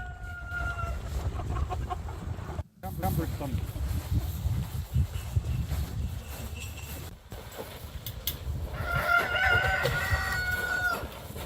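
Chickens cluck and a rooster crows amid farmyard noise near a chicken tractor, with people talking nearby throughout.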